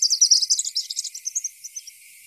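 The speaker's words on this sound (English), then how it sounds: "So as we saw, that was the palm warbler." Palm warbler song played from a recording, a rapid high trill of about twenty buzzy notes that fades toward the end, clean and alone.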